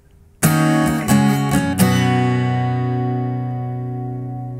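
A guitar strums a chord four times in a down, down, up, down pattern, then lets the final chord ring out and slowly fade, close and alone.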